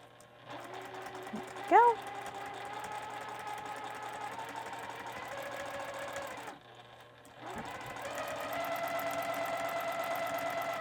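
A home sewing machine stitches steadily down a numbered guide line on a cupcake mix quilt project, its rapid motor whir running loud and even, pausing briefly near the middle before resuming, with a short spoken remark early on.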